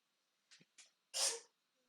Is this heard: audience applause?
no